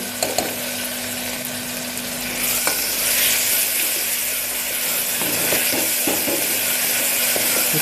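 Chopped tomato with ginger-garlic paste fries in a pan over browned onions, giving a steady sizzle. Sharp spatula scrapes and stirring knocks come through clearly and grow busier partway through.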